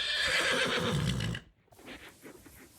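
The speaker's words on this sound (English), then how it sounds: "I have a couple horses here." A horse on a rodeo rider's property west of Ponoka gives a loud, close whinny lasting over a second, then a pause and quieter rustling and a few faint clip-clop steps.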